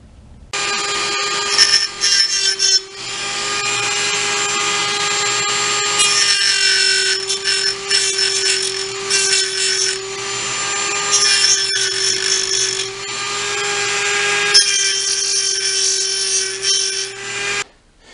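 A Dremel rotary tool whines at a high, steady pitch while cutting a homemade branding iron, with a few brief dips and stops as the bit catches and resumes.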